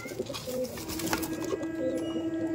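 Soft male pigeon cooing nearby in a loft, low repeated coos over a light background murmur, with no talking.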